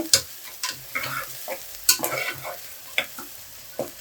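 Onions fry in a little oil while being stirred, giving quiet sizzling punctuated by about seven distinct scraping strokes of a spoon across the pan.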